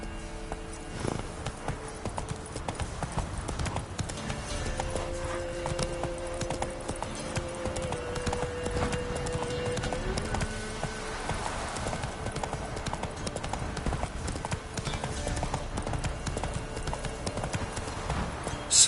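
The horse Roach gallops in The Witcher 3, with rapid, continuous hoofbeats drumming close and even for the whole stretch beneath soft, held musical notes.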